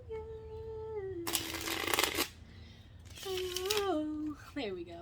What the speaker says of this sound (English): Might as well just shuffle again.